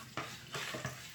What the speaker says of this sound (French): donc je vais mélanger tout ça